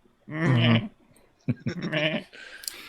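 A man imitates a goat during a tabletop fantasy role-playing session, giving a long, wavering bleat followed by a shorter second bleat, loud and close with no other sound.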